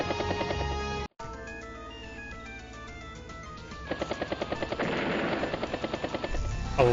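The T-copter helicopter unit in Advance Wars: Days of Ruin makes a game sound effect: a brief cut, then a steady mechanical drone that builds into rapid rhythmic rotor chopping over background game music, with no talking.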